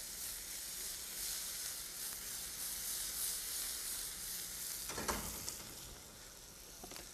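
Onions with thin-sliced garlic frying in a pan, a continuous dense hiss of sizzling oil heard close and fairly quiet, with a brief clatter of stirring near the end and no speech.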